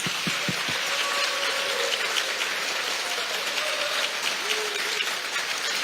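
A crowd at a Democratic Party of Korea campaign committee dissolution ceremony applauds in a steady, dense roar of clapping that holds evenly throughout, with a few sharper claps at the start.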